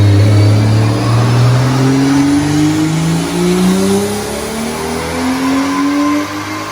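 A car engine revs hard on an all-wheel-drive Dynojet dynamometer and climbs steadily in pitch, loud and close, with a rough raspy drone throughout and no talking.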